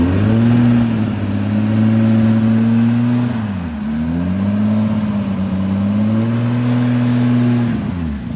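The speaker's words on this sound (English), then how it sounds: "we're gonna drive over our watch with this Castrol Supra." A Castrol-liveried Toyota Supra drives over a smartwatch, its engine holding a steady loud drone that dips briefly and rises again, close by and with no talk.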